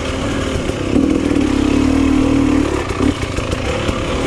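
A hard enduro dirt bike runs on a wet dirt track, its engine droning close and loud with a brief rev in the middle and rattling mechanical clatter throughout.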